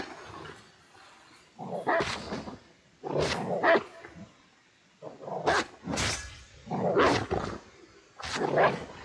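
A dog in Assassin's Creed Valhalla, Ireland DLC, barks and growls in a series of loud, close bursts spread through the clip, each separated by short pauses, with no talk over it.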